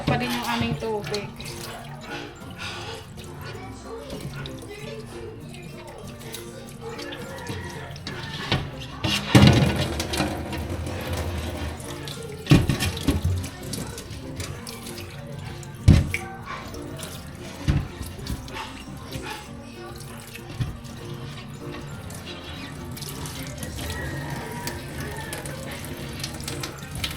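A weak flow of water runs from a household tap, a steady, low splashing trickle with occasional knocks and clatters over it, continuous for the whole span.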